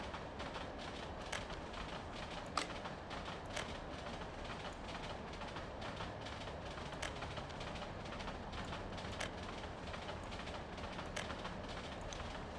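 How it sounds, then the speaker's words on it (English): A passing train in the industrial city-builder game Workers & Resources: Soviet Republic, a continuous rumbling roll with clickety-clack rail clicks, fairly faint and steady throughout, with no talk. "that's a loud train or whatever behind us, isn't it?"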